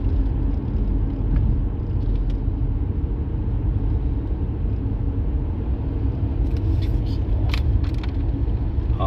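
A 2015 Ford Escape cruises on the road at about 30 mph, its engine and road rumble forming a steady, close low drone inside the cabin, with a few faint clicks and a brief higher burst near the end.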